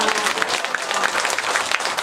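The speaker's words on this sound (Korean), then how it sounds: "박수 한번 주세요." Audience at a special lecture on the Diamond Sutra by Professor Kim Seong-gyu breaks into applause: dense, steady clapping from a roomful of listeners, lasting about two seconds at a fairly even loudness.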